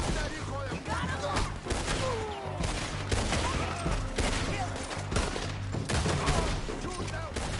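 Gunfire from Red Dead Redemption 2 rings out in scattered shots and volleys, fairly close, mixed with shouting voices and game action.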